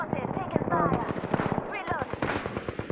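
Gunfire in the Apex Legends video game, rapid bursts of sharp automatic shots that come in quick clusters with short gaps, close and loud, with a voice talking over them.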